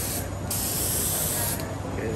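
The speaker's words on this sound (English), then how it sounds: "doing a little Envirolak clear coat, the 300 clear coat, over some Envirolak stain that we cut with water to make a spray stain" A spray gun applies Envirolak 300 clear coat over water-cut Envirolak stain on wood, a loud, steady close hiss with brief pauses between passes.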